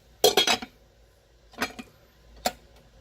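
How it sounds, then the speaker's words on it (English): Lid of a Cuisinart 4-cup rice cooker set back in place: a quick cluster of light clinks and taps followed by two shorter clicks, close and crisp in a quiet kitchen. "I'm going to just put that lid right back on, turn it back on"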